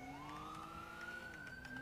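Police car siren from the video game GTA V, a wailing tone rising steadily in pitch, faint and distant under low background noise.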